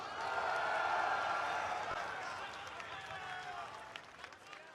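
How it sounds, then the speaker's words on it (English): A crowd at the EVO fighting game tournament cheers and applauds for the player Monarch, loud at first and then fading into scattered claps and murmuring. "Crowd reaction for none other than Monarch."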